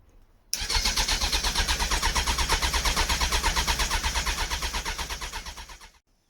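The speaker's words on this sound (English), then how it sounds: "No, she does not want to start," A Suzuki Bandit motorcycle's electric starter cranks steadily for about five seconds with a fast, even pulsing churn, slowing at the end as the engine fails to catch.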